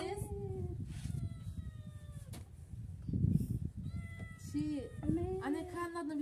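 A cat meows several times in a domestic setting, mid-distance, with a voice talking over and between the calls.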